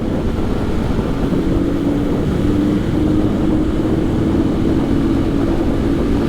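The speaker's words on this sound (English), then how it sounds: "Sure is windy today." Strong wind buffets the microphone in a constant low roar during a Halcyon 450 motorcycle ride, steady throughout with no pauses, with the motorcycle engine droning underneath.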